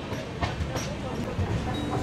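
Howrah to Digha Paharia Express with new LHB coaches leaving the main line and curving left onto the Digha line, a steady close rumble of wheels and carriages under continuous noise, with a voice talking over it.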